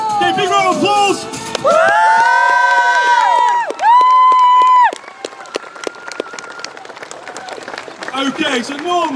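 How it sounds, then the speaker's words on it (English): Outdoor crowd at an airshow cheers and whoops loudly after a Royal Marines unarmed commando display, then settles into steady applause with scattered shouts, the cheering dense and close before thinning into clapping. "Okay, big round of applause."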